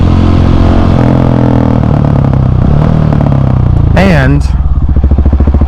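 A KTM 701 Supermoto and a Ducati Hypermotard 950SP ride on a cruise, with a loud, close engine drone and rumble throughout, wind buffeting, and a rising whine near the end, under a brief spoken word.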